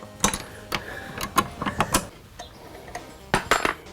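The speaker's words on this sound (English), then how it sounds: "now that the 4 bolts are tightened up" Race seat bolts being tightened with a ratchet, giving sharp mechanical clicks and short ratcheting bursts in an irregular rhythm, close and fairly loud, with no talk.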